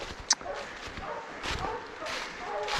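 Hunting hounds on a hunt in the Corrèze countryside give short, scattered yelps and barks at a distance, with people talking quietly over them.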